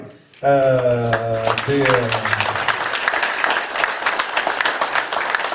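At a French awards ceremony for flowering and sports prizes, a crowd breaks into applause for a boxer, and the clapping swells in right after a voice and continues as a dense, even patter.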